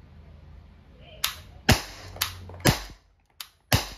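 An Umarex TR 50 CO2-powered .50 caliber airgun revolver fires six sharp, close cracks in fairly quick succession, each a crisp snap with a brief decay, over a quiet background.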